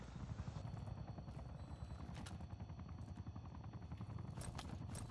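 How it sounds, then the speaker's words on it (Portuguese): Steady low rotor thump of a helicopter in Call of Duty: Black Ops 6 fills the scene, a continuous rumbling chop with a few sharp game-like clicks layered on top. "Esse helicóptero é nosso ou é deles?"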